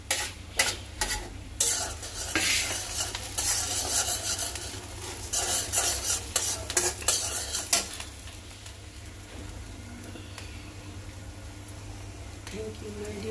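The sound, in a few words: onions frying in pan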